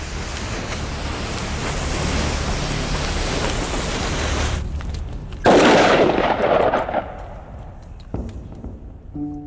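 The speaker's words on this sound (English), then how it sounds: "we might well get a big bang if this pyrotechnic mixture wasn't compacted enough" A gourd with a thin clay lining, packed with gunpowder, bursts in a single loud blast after a stretch of steady roaring noise, and the crackle and rumble fade away over several seconds.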